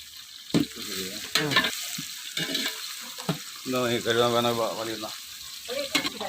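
Onions sautéing with salt in a pan on the stove, a steady soft sizzle broken by occasional stirring scrapes, with a person speaking over it at times.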